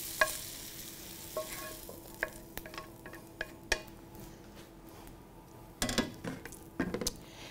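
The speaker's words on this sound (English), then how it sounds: "now we're going to go ahead and add the sausage and the apple to our onion" Sausage and apple fry with onion, celery and garlic in a pan, a soft steady sizzle broken by scattered scraping stirs and clinks of the utensil against the pan, with no talking.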